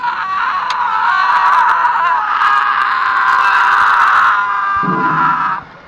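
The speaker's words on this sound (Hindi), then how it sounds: "उनमें से 4 योद्धाओं की चीख सुनाई दी" A loud, drawn-out scream rings out for several seconds without a break, then abruptly cuts off.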